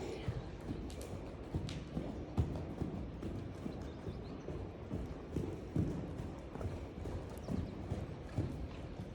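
Horse hooves clip-clop in a steady rhythm during an outdoor group riding lesson with two riders, moderately close, while an instructor's voice calls out over the hoofbeats.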